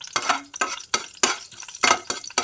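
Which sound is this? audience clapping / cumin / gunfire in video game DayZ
cumin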